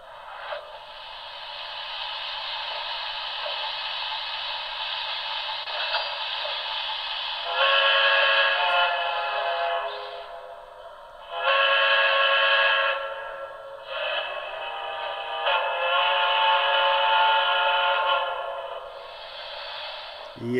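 A Broadway Limited Blue Goose model locomotive sounds its whistle, a steady chime-like tone held for long stretches with several louder blasts and pauses, loud and close.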